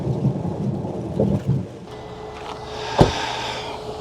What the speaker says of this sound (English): So it's still raining, it's coming down, and it will rain for 3-4 hours.